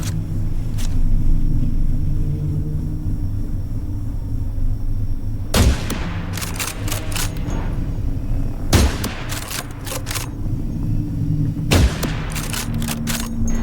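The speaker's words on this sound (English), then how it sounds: "These are titanium bullets right in the kisser and not killing him." Titanium-round gunfire in The Last Caretaker, three heavy separate shots spaced a few seconds apart, each a sharp crack with a short trailing rattle over a constant low machine drone.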